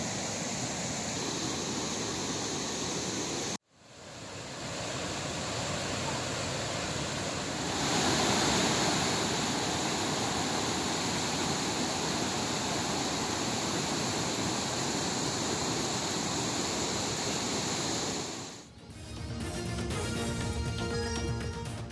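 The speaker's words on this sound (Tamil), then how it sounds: "ஸ்ரீபெரும்புதூர் ஏரி முழு கொள்ளளவை எட்டிய நிலையில் 700 கனஅடி உபரிநீர் வெளியேற்றம்." Surplus water from the full Sriperumbudur lake gushes out in a loud, continuous roar, broken by a sudden cut and a later shift to a rougher rumble.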